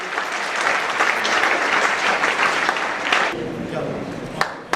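Sustained applause from a seminar audience for a group of children, a dense steady wash of many hands clapping for several seconds, easing slightly near the end.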